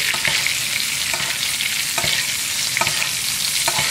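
Steak searing in a hot pan, a loud, steady sizzle and fry that fills the whole stretch, with occasional scraping knocks from stirring or turning the meat.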